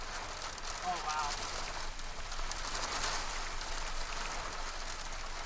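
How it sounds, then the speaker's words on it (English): Heavy rain pours down in a steady broadband roar during a storm chase in tornado conditions, loud and constant throughout, with voices faintly mixed in. "The rain."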